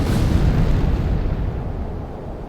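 An artillery shell fired and bursting in Carrier Command 2, a loud booming blast at the start that rolls off into a long, rumbling decay with no voices.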